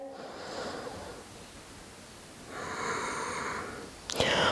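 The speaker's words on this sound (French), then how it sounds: "On essaye de penser à la respiration Ujjayi." Ujjayi breathing during a yoga session: two slow, audible breaths with a soft oceanic hiss, the first gentler and the second fuller, followed by a brief rustle of movement.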